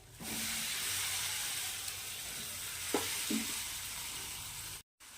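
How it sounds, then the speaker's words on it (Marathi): Cauliflower goes into a pan of fried masala and sets off a loud, steady sizzle that runs nearly the whole time, with a couple of brief stirring scrapes and a short cut to silence near the end. "याला मसाला छान प परतला गेला आहे आणि आता कोबी सोडायची आहे"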